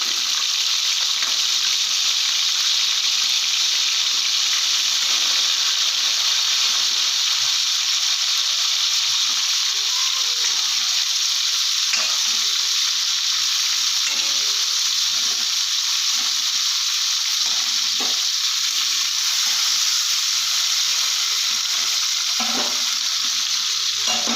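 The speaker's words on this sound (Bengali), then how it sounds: "কপিটা কড়াইতে আমি আগে থেকেই তেল বসিয়ে রেখেছিলাম তো এই কড়াইতেই আমি ভেজে নেবো" Cauliflower florets frying in hot oil in a wok for a home-style vegetarian cauliflower and potato curry, giving a loud, steady, continuous sizzle and hiss with occasional stirring clinks, no talking.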